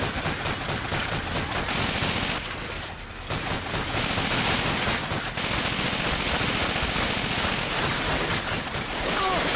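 A heavy gun fires in Call of Duty: Finest Hour with dense, loud, rapid bursts of gunfire. The firing runs almost nonstop, with a brief lull partway through, and no talk is heard.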